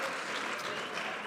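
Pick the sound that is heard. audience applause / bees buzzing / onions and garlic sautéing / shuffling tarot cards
audience applause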